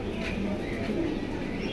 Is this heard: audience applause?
no